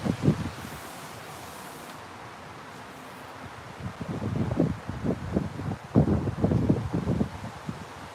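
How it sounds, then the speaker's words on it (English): Strong wind gusts buffet the microphone outdoors in low, rumbling surges, quiet at first and then building into heavier blasts. "It's really windy today"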